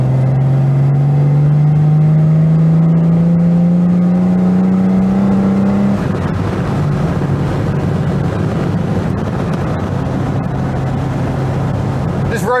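A car engine revs steadily upward to about 4,000 rpm over several seconds, then drops into a rough, rumbling drive noise, loud and close.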